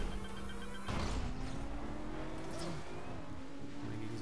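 V8 race car engine roaring in the racing video game Blur, a loud sustained drone that surges at about one second and keeps pulling hard with shifting pitch throughout.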